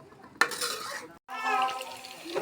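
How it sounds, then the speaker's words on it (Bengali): Spice paste fries in a pot for cooking meat, with clattering utensils, scraping stirs and one sharp metallic clank over a low sizzle. "এখন গোস্ত রান্না করার জন্য পেস্ট ভাজি করতেছি।"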